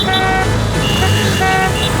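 A car pulls away with its engine running loud and close, while a sustained horn toot rings out over it.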